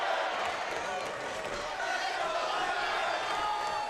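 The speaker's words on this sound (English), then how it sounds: "Chant by the crowd. Let's go, Allen." Dense crowd noise fills a cage fight venue at an FAC event, a steady roar of many voices that could be chanting, loud and continuous throughout with no clear breaks.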